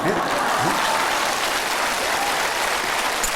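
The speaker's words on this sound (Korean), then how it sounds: "아무리 그래도 그렇지 영진 스님을 위해서 박수치고" Audience applause fills a Korean Buddhist temple dharma assembly at Hwaamsa on Dosolsan, a steady, dense clapping from a large crowd that lasts throughout, with a voice faintly audible underneath.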